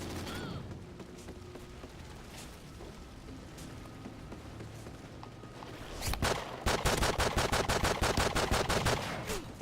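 Call of Duty: Ghosts multiplayer gunfire with LMGs and assault rifles: scattered distant shots at first, then close, loud, rapid automatic bursts hammering in a steady rhythm over the final seconds.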